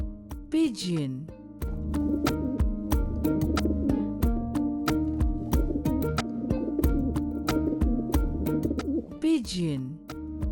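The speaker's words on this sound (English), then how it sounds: "Pigeon." A pigeon gives soft, rolling coos over a continuous backdrop of light music, with a voice speaking briefly at the start and end.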